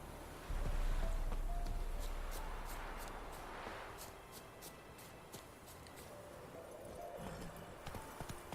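Roach the horse in The Witcher 3 video game, hooves clip-clopping in a steady walking rhythm at moderate distance over soft ambient background, with no talk.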